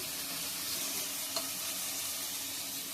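Ginger garlic paste fries in a pan for mutton chops, a dense continuous sizzle heard close up throughout, with a faint clink near the middle and no voices.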